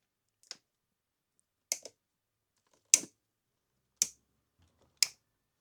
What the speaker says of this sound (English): I need some cutters to cut these cable ties here